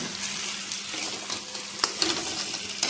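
Sauce is stirred in a frying pan with pointed gourd, giving a soft, steady sizzle and wet scraping close by. A few sharp clicks of a utensil against the pan sound near the end.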